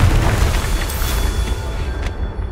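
A Confringo spell explosion in Hogwarts Legacy lands as a loud, deep rumbling boom that lingers through the stretch, with a brief bright burst near the end.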